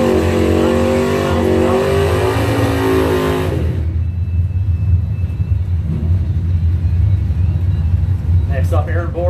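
Drag racing cars, including a Mustang, launch down the strip with a loud, roaring engine burst that fades into a rumbling crowd and track ambience as an announcer talks over it.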